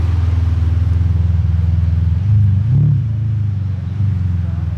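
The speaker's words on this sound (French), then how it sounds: "Moteur V12." A red Ferrari 575 Maranello with its V12 engine rumbles nearby, a deep steady idle that swells briefly as if blipped, then settles back to a low, even burble.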